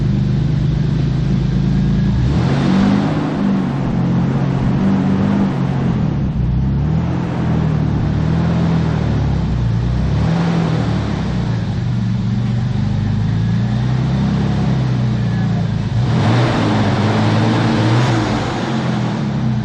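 A twin-turbo, six-speed JDM Toyota Supra with a new wiring harness and AEM V2 engine management rumbles steadily nearby while backing out, its engine note swelling in several short revs over a continuous low drone.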